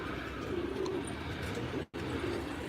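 Pigeons coo steadily nearby over a busy outdoor background, broken by a brief cut to silence.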